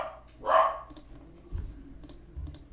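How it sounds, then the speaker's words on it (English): A dog gives one clear bark in a room nearby, followed by scattered soft clicking sounds and low thumps, with no one talking. "my dog's barking"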